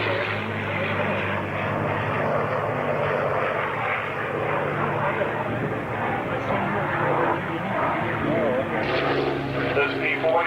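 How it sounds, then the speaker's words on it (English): P-40 warbird's piston aircraft engine at an airshow in Geneseo, New York, a continuous propeller drone heard from a distance beneath an announcer's voice over loudspeakers and crowd ambience. "This is P-40 from Warbirds over at Long Island."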